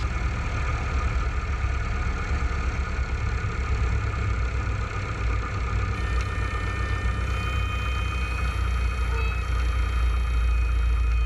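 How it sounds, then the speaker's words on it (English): Cessna 152 piston engine throttled back to idle during a power-off stall, a steady low drone and hum heard from inside the cabin, continuous and fairly loud with no talking. "So we're gonna bring the power to idle. And we're just doing a power off stall here."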